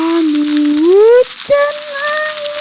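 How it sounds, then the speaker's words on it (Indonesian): Video game rain and wind: a close, steady hiss of rain under loud, howling wind whistles that glide up and down in pitch, with a short break in the middle. "hujan angin."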